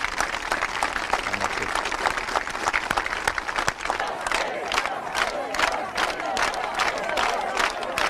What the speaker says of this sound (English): And just a round of applause to Daphne's life